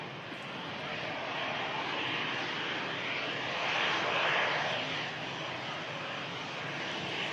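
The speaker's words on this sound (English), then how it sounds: "It's EasyJet in from Pisa." An EasyJet airliner arriving from Pisa passes overhead with a distant, steady engine roar that swells slightly near the middle and then holds, with no talk.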